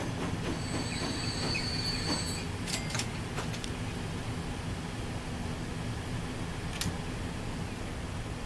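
A packed train rolls along in the video game Transport Fever 2 on the Greater London map, with a steady close rumble of wheels on track and a few sharp, brief metallic squeals and clicks early on.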